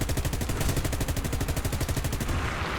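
Rapid, continuous aircraft cannon fire from a British plane in the combat game War Thunder, a loud, steady stream of shots for almost three seconds that tails off abruptly near the end.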